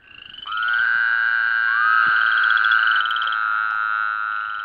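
Woodhouse's toads calling in a shallow wetland pool: a loud, sustained nasal trilling drone rising out of quiet, with a second overlapping call joining partway through, close and clear.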